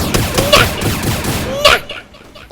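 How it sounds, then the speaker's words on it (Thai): Rapid gunfire in the Roblox video game, with dense, loud bursts of shots running almost continuously while a voice talks over them. "เดี๋ยวแบบลองใช้ปืนนี้กับน้องอ่ะ"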